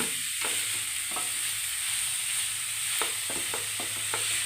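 Steady sizzling of papaya frying in oil, with several soft scraping stirs of a spoon in the pan toward the end.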